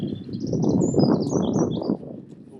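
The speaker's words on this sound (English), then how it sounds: "there's some bird sounds." Several birds chirp and tweet in short, high bursts over a murmuring, low rumble of background noise.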